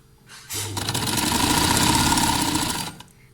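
A sewing machine runs in one continuous burst of about two and a half seconds, stitching shirt sleeves, with a quiet pause before and after.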